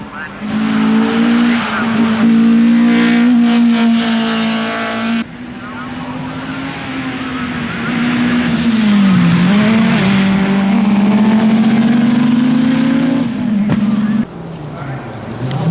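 Rally cars race laps of the Alton Park circuit in Cheshire in wet, wintry RAC rally weather, engines droning loud and steady with tyre noise throughout, a commentator's voice running over them.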